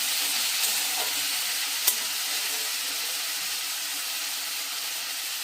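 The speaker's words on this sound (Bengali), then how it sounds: "এবারে একসাথে ভালো করে নেড়ে নিয়ে" Potato curry for luchi being stirred in a hot frying pan, giving a steady close sizzle throughout with a single sharp scrape of the spoon partway through.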